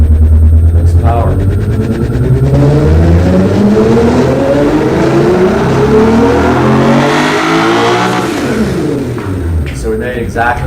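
A car engine revs hard on a dyno during automatic testing, a loud, close, steady roar whose pitch climbs smoothly through a long pull before easing off near the end.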